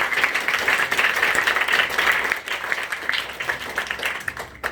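Loud, dense applause from a lecture audience in Surat, Gujarat, sustained steadily for several seconds before thinning out near the end.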